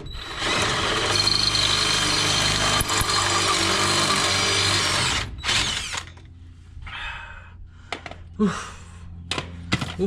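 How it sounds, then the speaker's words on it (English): A power drill with a 1/2 inch bit bores out a hole for a sway bar bolt on an axle-swapped truck, whining loudly for about five seconds. It stops, followed by a few clunks and taps. "I'm gonna go ahead and drill it out with a 1/2" drill bit so that I can actually install my bolt"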